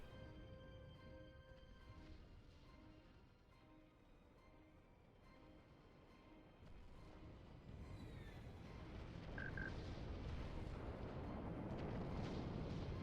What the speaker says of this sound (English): And we see a missile barrage.